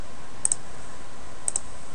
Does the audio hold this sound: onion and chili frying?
no